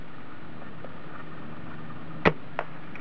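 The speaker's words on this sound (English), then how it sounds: "Hear the gun being bolted there, and it's being fired." A Well MB-04 G22 airsoft sniper rifle fires with a quick, crisp snap, and a fainter tick follows a moment later. Both sound over a steady hiss of outdoor background noise.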